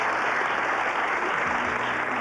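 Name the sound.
round of applause from game show audience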